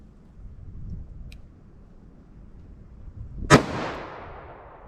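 A single .357 Magnum revolver shot with 158-grain ammo cracks out sharp and loud after a quiet pause, followed by a fading echo tail over faint background noise.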